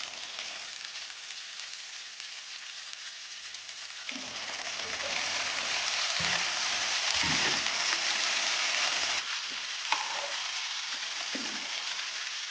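Shrimp sizzle in a pan with Buldak spicy sauce. The crackling hiss grows louder after sauce is added, with occasional utensil taps and soft clatter near the stove.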